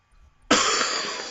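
A single harsh cough bursts out abruptly after a brief quiet moment, close and loud, then fades with a breathy tail.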